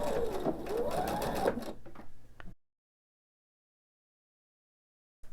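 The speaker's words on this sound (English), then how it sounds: "I'm just going to backstitch a little bit." A sewing machine backstitching a seam on fabric triangles for a pillow, whirring at close range for about two seconds and then stopping, followed by silence.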